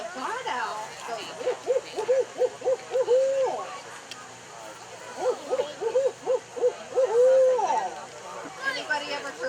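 A person's voice imitating the hooting call of a barred owl: two bursts of rhythmic, rising-and-falling hoots separated by a short gap, fairly close and clear.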